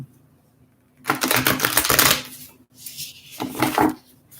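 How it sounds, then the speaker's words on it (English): Tarot cards shuffled in two quick bursts of dense, crisp riffling and clattering, each lasting about a second, with a brief pause between them. "Okay, one more shuffle here for Geminis."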